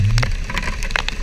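Rain falling during Typhoon Crising in CSJDM, Bulacan, a steady close patter of drops on surfaces with a low rumble underneath, continuous through the short stretch.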